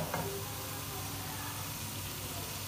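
Beef pieces for haleem fry in a pot as a steady, close sizzle that holds level, with one brief stirring scrape near the start.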